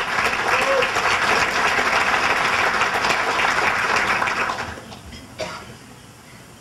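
Audience applause fills a civic State of the City address, steady and full for about five seconds before tapering off, with a brief clap or knock near the end.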